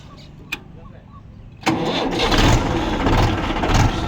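A tractor engine on a farm is cranked and catches after a brief click, then settles into a loud, steady, rumbling run close by.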